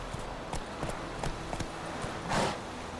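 Hooves clip-clop in a quick, irregular rhythm as the horse Roach gallops in The Witcher 3 video game, with a steady background bed and a brief louder whoosh near the end.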